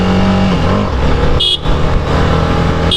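A 2021 TVS Apache RR 310 motorcycle engine, loud and close, with rising and falling pitch as it is revved and ridden, plus a brief dip and wind buffeting.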